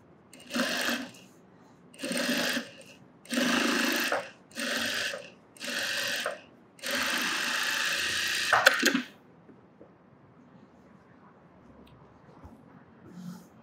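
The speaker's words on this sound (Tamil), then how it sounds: "ஓரத்தில் தையல், அந்த எஜ்ஜு தையல் போட்டுக்கோங்க" A sewing machine stitches the edge of cotton lining for a sleeveless top in six distinct bursts, the last one longest, each a steady close whir, followed by several seconds of near silence.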